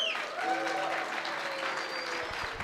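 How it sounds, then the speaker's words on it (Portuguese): A church congregation applauds during a worship service, with sustained clapping and some sustained tones from sung or played notes over it. "aplaude o Senhor"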